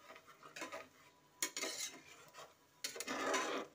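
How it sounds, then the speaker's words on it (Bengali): A spoon scrapes and stirs turmeric water in a pan, faint close bursts of scraping and swishing in irregular strokes, with no talking. "হলুদ জলটা দিয়ে কিছুক্ষণ নাড়াচাড়া করবো ভালো করে"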